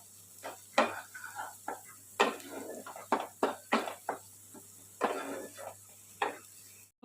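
A spoon scrapes and knocks again and again against a pot while spice masala and salt are stirred in a mutton-fat potato dish. The quick, uneven clatters sound close, over a faint steady hum.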